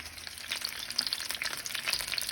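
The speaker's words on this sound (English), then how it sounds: "Now the bell peppers are getting kind of cooked from the bottom part" Steady oil sizzle and crackle of stuffed bell peppers frying in a pan, close and continuous, with small pops throughout.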